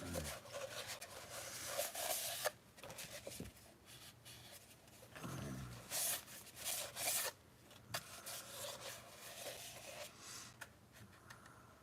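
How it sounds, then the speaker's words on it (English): Steady scratchy rubbing of sandpaper on wood by hand, in irregular back-and-forth strokes with brief pauses, fairly close and quiet. "I could just keep sanding it and sanding it and sanding it and sanding it"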